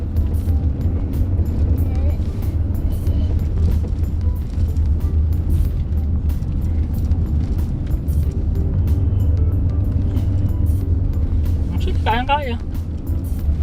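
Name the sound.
Mitsubishi Xforce car engine driving uphill in sport mode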